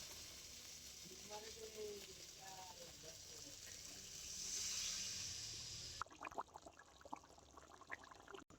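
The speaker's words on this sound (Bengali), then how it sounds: "এবারে আমি দিয়ে দিচ্ছি মশলা বাটা জল।" Spiced paste water poured into a pan of sizzling fried spices for a rohu fish curry with Malabar spinach; a steady hiss swells into a louder surge, then gives way to clinks and scraping from the pan.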